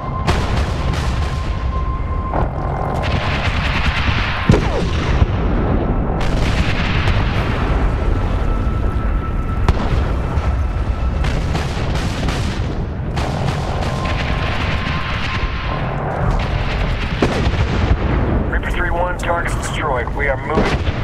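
Artillery strike explosions in the video game Medal of Honor: sustained heavy booms and rumbling blasts fill the scene at high volume, layered with gunfire and aircraft noise, while radio voices talk over the barrage.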